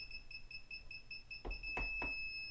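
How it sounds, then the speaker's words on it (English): A Kaiweets circuit breaker finder beeps at a steady rhythm near an electrical breaker panel, its repeated tones joined by a few sharp clicks toward the end. "the second one down is the one that it's beeping and the tip is turning red"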